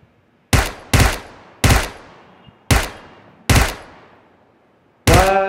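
Gunfire in a shooter video game: six loud, sharp shots spaced irregularly about a second apart, each with a short decaying tail, the last one harsher and ringing, with no talk over them.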